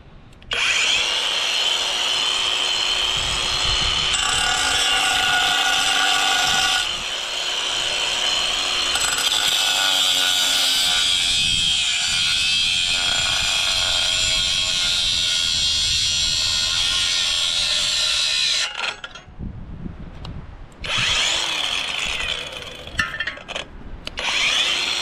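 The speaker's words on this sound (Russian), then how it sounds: "Теперь нам нужно отпилить старый глушитель." A hand saw cuts off the old muffler of an Alfa 50 moped, giving loud, close, continuous rasping strokes on metal that briefly pause near the end before resuming.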